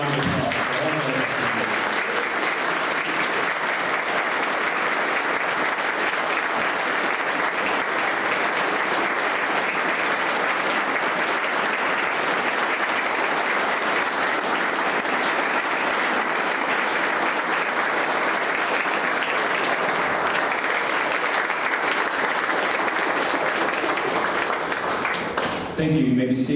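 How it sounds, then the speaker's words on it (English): Sustained applause from a crowd honoring veterans at a Veterans Day ceremony, a steady, dense wash of clapping that carries on loudly and evenly for nearly half a minute before trailing off. "let's give one final round of applause for all of our veterans."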